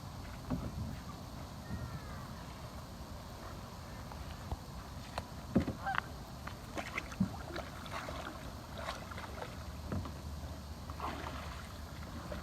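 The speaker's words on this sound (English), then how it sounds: "Let me hop into my little touring boat" A paddler climbs into a narrow touring kayak on the water: soft hollow knocks, bumps and small splashes scattered close by over a quiet outdoor background, with a faint voice now and then.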